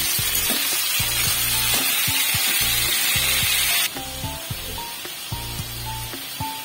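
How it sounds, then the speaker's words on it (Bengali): Prawns frying lightly in hot oil give a steady, close sizzling hiss throughout, with a faint tonal background under it and a slight drop in the hiss partway through. "চিংড়ি মাছগুলো আমি একটু হালকাই ভাজবো, বেশি ভাজবো না।"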